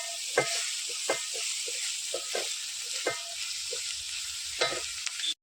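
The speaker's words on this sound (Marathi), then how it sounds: "फोडणी जरा असे टाकले तर पटकन फुटतात" Pumpkin flowers with soaked chana dal frying in a Marathi-style tempering, giving a steady close sizzle broken by regular scraping stirs and a few sputters.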